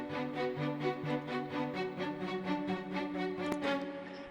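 Arpeggiated LABS strings in an electronic music production drop, a sustained orchestral-style string layer pulsing in a steady, even rhythm of rising and falling notes, moderately loud and continuous with no voices.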